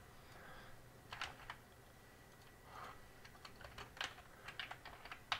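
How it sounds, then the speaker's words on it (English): Fast typing on a computer keyboard, with irregular bursts of quick clicks over a faint steady hum, close and fairly quiet, no talking. "See how fast I type?"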